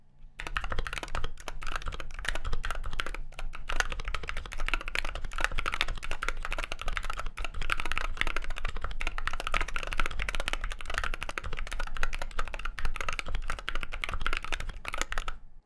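Continuous rapid typing on a modded Wooting 60HE mechanical gaming keyboard, dense clacky keystrokes at a steady pace with no voices, close and fairly loud throughout.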